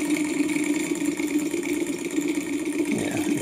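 Small Stirling engine running and spinning a propeller, a steady fluttering hum with a rhythmic pulse, close and moderately loud, alone without talk.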